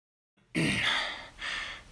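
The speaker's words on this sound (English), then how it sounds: "Breathing so loud just to annoy me!" A person breathes loudly and close to the microphone, a sharp gasping inhale followed by a long airy exhale and another breath.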